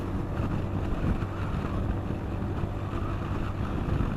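A Steephill Monkey boat engine runs hard at full throttle at high speed, a steady, loud, low drone mixed with rushing water and heavy wind buffeting the microphone throughout.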